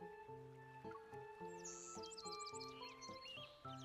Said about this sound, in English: They chirp and chatter.